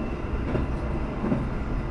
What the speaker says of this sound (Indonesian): Ini keretanya baru mulai mengerem, mengurangi kecepatan jelang masuk stasiun Comal.